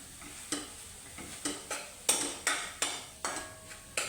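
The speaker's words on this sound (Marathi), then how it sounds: "असं तुपावर चांगलं भाजून घेतलं मी" Grated carrot for halwa roasting in ghee is stirred and scraped about ten times in a steady rhythm, each pass giving a crisp spoon-on-pan knock over a low sizzle.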